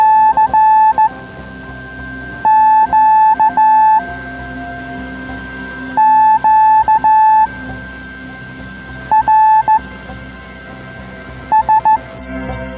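Clusters of short, high-pitched slow Morse code beeps from a CQ-QRS net on the 80-metre band on a Tuesday evening repeat in slow, spaced groups over a steady background hiss and faint radio tones.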